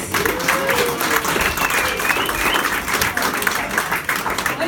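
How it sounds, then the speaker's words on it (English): An audience claps loudly and steadily, with a few whistles rising above the dense applause throughout. "Big round of applause for Abe Rabinowitz."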